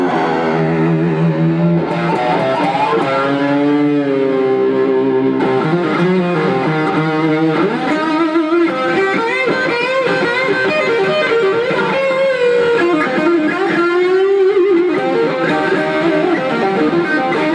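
High-gain electric guitar through a rack tube power amplifier with delay added, a continuous loud melodic line whose notes repeat and trail into echoes for over seventeen seconds, no voices.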